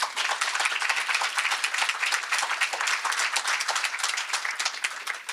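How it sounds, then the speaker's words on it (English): An audience at a talk on mental health in Latina/o communities claps steadily for the speaker, a sustained even applause with no voices heard. "So round of applause for Dr. Cardenas."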